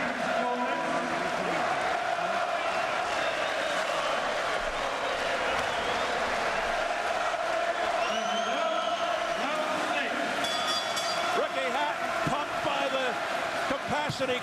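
A capacity boxing crowd at the Manchester Evening News Arena fills the air with a continuous roar and cheers during Ricky Hatton vs Kostya Tszyu. Commentators talk over the steady din.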